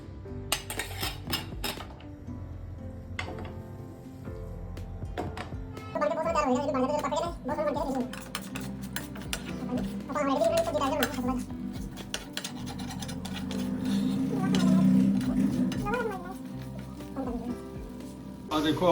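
Egg bhurji cooks on a non-stick tawa, with a soft sizzle, repeated scraping and clinking of a utensil against the pan, and pauses between strokes. Someone talks intermittently over the cooking.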